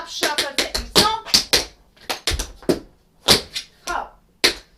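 Tap dance shoes working through a shuffle-and-stomp routine from Ruby Keeler's '42nd Street' number, with crisp, close metallic taps in quick irregular clusters and heavier stomping hits between brief pauses.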